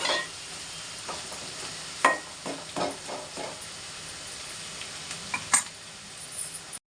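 Onions and green chilies sauté with salt in a pan for mutton gongura, giving a steady close sizzle broken by several soft scraping stir strokes.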